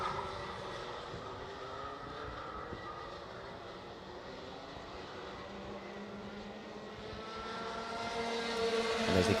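Racing karts at the Kiltorcan karting circuit during a championship heat, engines droning together at mid distance, the buzzing rising and falling as the pack rounds the track and swelling louder at the end.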